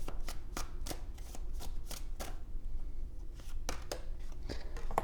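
Tarot cards riffle and slap down in a quick string of crisp, close snaps and shuffles, with short pauses between the flicks and no voices.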